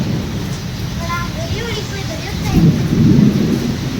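Stormy monsoon weather with rain, strong wind and thunder, a constant rushing wash with a low rumble swelling near the end and faint tonal sounds drifting over it.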